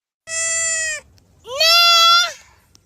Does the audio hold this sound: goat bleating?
yes